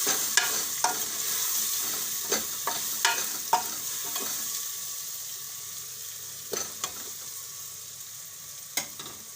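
Kashmiri red chilli and salt get stirred into vegetables frying for a khichdi, with a bright steady sizzle and clusters of sharp spatula scrapes against the pan, thinning out toward the end, close up with no talking.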